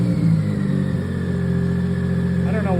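A BMW K75 motorcycle engine idling unevenly at close range, a steady low hum whose pitch wavers and shifts, with a voice talking over it.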